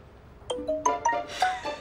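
Phone with an incoming call plays a melodic ringtone of several bright electronic tones in an uneven rising pattern, close and clear, with no talking.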